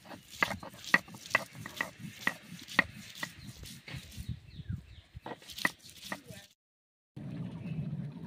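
Cumin, coriander and chopped onion being ground into a spice paste on a stone, with repeated rhythmic grinding strokes and rubbing scrapes, close and fairly quiet, pausing briefly before a low rumbling resumes.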